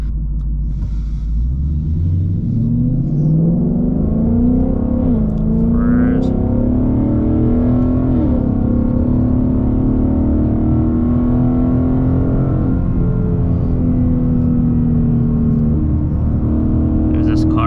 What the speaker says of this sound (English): get into the second gear and then floor it.